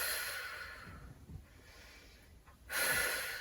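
A sharp exhale during a core exercise on a stability ball, a single breath with a hiss that fades out, close and alone.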